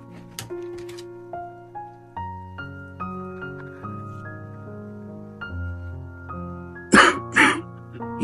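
An elderly father coughs at night, unable to sleep: two sharp, close coughs in quick succession near the end, over a soft background of sustained musical tones.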